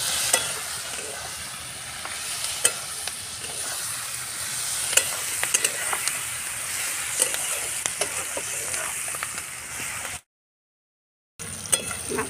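Soybean chilli stirred in a pan with a steady close sizzle and repeated scraping clicks of the spoon, running continuously before a brief cut to silence and a short resumption.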